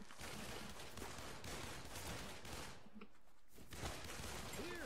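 Rapid bursts of gunfire from an online shooter game, The Cycle, crackle loudly and almost continuously, with brief lulls between volleys.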